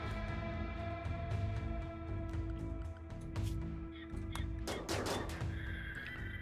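Gunshots crack out in RimWorld, sharp scattered reports layered over sustained music, with one heavier cluster of shots near the end.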